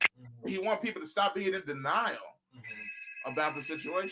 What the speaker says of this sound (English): But that's the phone line ringing